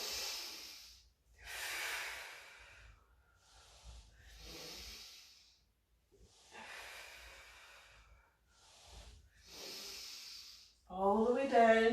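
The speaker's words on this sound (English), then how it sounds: "Big belly breaths." Deep belly breathing during a pilates exercise, slow close inhales and exhales alternating with quiet gaps between them, followed by a brief spoken voice at the end.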